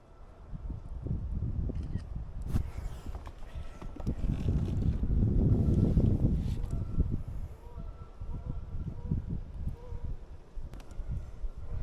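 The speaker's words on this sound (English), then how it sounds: "I'm gonna paddle out of these trees" A kayak is paddled out from among trees on a windy early-spring bass lake, with steady low water swishes and knocks of the paddle under rushing wind buffeting the microphone throughout.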